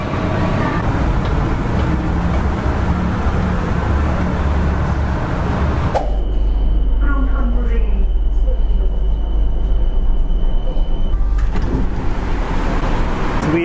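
Bangkok metro train ride, a loud steady rumble of the moving carriage, with a brief announcement tone and muffled voices inside the car.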